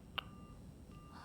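A phone in the Silent Hill f video game gives a short electronic beep, faint and brief over a quiet background hum, followed by a softer second tone later.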